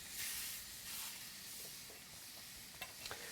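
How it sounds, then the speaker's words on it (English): Burgers sizzling on a grill heated to around 400 degrees, a continuous close hiss and crackle with a few sharper pops near the end, no voices. "And now I'm grilling my burgers."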